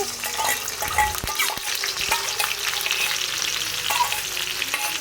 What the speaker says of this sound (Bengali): এখন আমি তেলের ভিতরে পেঁয়াজ দিয়ে দিতেছি